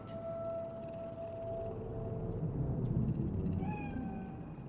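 A cat in the video game Cyberpunk 2077 meows twice, a long, clear meow and then a shorter rising one later, moderately faint over a steady low ambient hum of the city.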